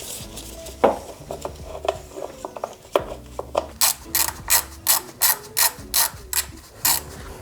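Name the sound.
ratchet removing 10mm bolts from Honda Civic D14 timing belt cover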